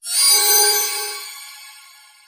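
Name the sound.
phone ringtone ringing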